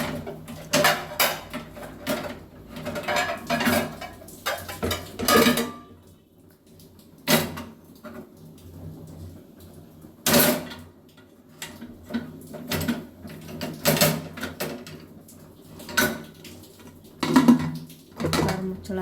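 A spoon stirring and mixing a salted Yadgiri-style lentil curry in a metal pot, giving irregular metallic clanks and scrapes that come in clusters with brief pauses and faint voice in the background.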